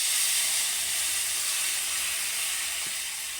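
Water mixed with kasundi mustard hits hot oil holding five-spice seeds, bursting into a loud, close, steady steam hiss and sizzle that fades only slightly over a few seconds.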